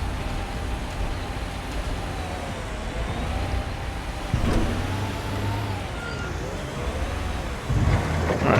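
A construction vehicle driving in the Construction Simulator game, with a steady low engine rumble throughout that surges louder twice, alone without talk.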